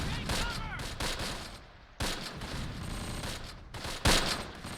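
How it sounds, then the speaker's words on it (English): Mortar and artillery fire in a World War II wargame, with repeated heavy booming blasts and crackling gunfire at irregular intervals, loud and close, including sharp impacts near the middle and end. "Mortars and artillery in the trees."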